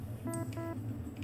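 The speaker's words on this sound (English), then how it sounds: "That is the sound of my printer going finished." Printer finished chime in the game Stationeers: a faint two-note electronic tone, two short beeps in quick succession over a steady low machine hum.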